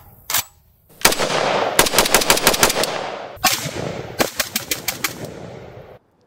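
FNC rifle firing outdoors: a lone shot, then two long strings of rapid, sharp cracks at close range, each burst ringing out before stopping abruptly.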